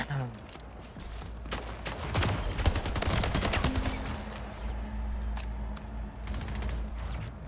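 Rapid bursts of game gunfire crackle through a noisy multiplayer shooter match, with automatic fire clustering in the middle and sporadic shots later, partly under player chatter.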